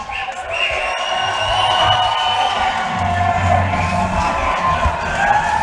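A large crowd at a Coastal Combat mixed martial arts event cheers and roars for fighter Brandon Walsh, a sustained loud wall of shouting and whoops with scattered individual yells rising out of it.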